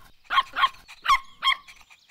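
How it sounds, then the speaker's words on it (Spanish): A toy's animal-sound button plays a recorded dog barking, four short sharp barks in quick succession, clear and close with no talk over them. "Sí, así hacen los perros."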